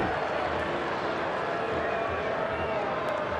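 Sparse ballpark crowd in Washington at a Phillies–Nationals game, booing and jeering Bryce Harper; a steady, fairly distant murmur and low roar of disapproval fills the stands without a break.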